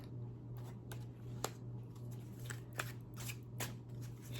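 Tarot cards are shuffled and pulled during a reading, giving soft, close riffling and papery snaps. A few sharper flicks stand out over a steady low hum.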